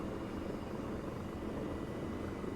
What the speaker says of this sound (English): Fly along the coastline road in a helicopter.